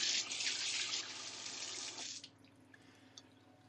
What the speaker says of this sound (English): So let's just wash my hands a moment.